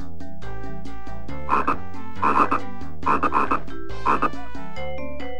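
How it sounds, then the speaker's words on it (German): In a Dora the Explorer video game on the V.Smile console, a cartoon frog croaks four times in clear bursts over bright, looping game music, with no speech. "Sieh nur, Dora, der Frosch zeigt uns den Weg"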